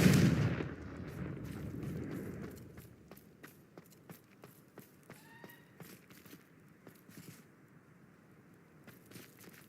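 A Confringo spell in Hogwarts Legacy bursts with a blast at the start, then scattered sharp clicks, pops and crackles of shattering vases and light footsteps trail off over several seconds.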